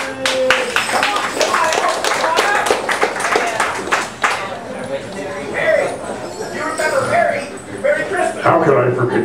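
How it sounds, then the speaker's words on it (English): Scattered clapping from a small group at a family reunion, loose and uneven hand claps that fade in the middle and pick up again, with people talking over them. "Big hand for her."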